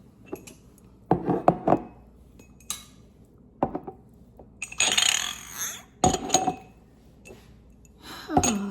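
Glass jars and their lids clink and knock together in a kitchen as they are handled and sorted, a series of sharp bright chinks and rattles in separate bursts with pauses between.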